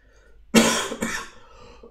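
A single sharp cough bursts out, followed quickly by a second, weaker cough, close and loud against a quiet room with no talking.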